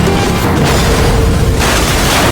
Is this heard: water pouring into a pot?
no